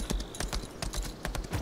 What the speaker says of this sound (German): Ich muss auf einem Pferd über die Brücke reiten.